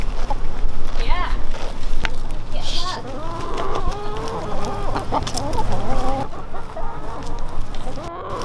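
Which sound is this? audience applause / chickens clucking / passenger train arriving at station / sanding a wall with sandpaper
chickens clucking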